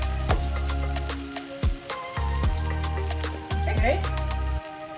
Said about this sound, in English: Don't know if you can hear that sizzle.